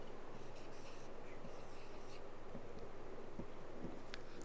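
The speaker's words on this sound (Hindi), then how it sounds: "तो अब यहाँ पे हम लिखते हैं" A pen writes a word on paper, making faint, close scratching strokes over a steady background hiss, with no voice.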